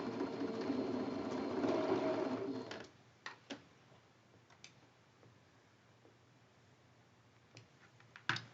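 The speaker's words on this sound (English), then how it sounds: "You're sewing directly on that line that you drew from corner to corner" A sewing machine stitches a quilt block along a diagonal line drawn from corner to corner, for a Cotton Boll block. It runs as a steady, close whirring burst for under three seconds, then stops, leaving a few faint clicks in near silence.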